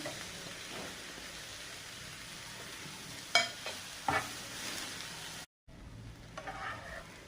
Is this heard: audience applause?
no